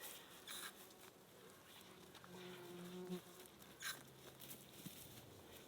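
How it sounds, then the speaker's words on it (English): Insects buzz at an outdoor campsite where mosquitoes swarm, faint thin whines drifting in and out over quiet background noise, with a few soft taps and rustles. "The mosquitoes are just eating me alive out here."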